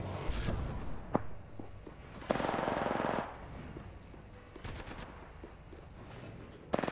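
Automatic weapons fire rattles in short bursts in the battle royale video game Apex Legends, with a sustained volley in the middle and scattered single shots around it, heard without voices.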